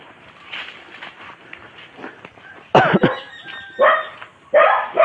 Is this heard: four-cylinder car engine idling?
no